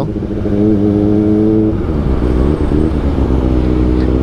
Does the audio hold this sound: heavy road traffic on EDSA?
yes